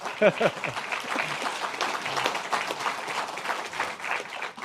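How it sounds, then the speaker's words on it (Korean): A crowd at a political party gathering bursts into applause, a dense patter of clapping hands that carries on steadily for several seconds, with a voice briefly at the start. "여러분, 이럴 때 박수 한번 치시는 거예요."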